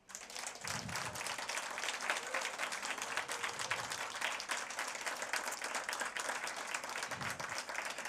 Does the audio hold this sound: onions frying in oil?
no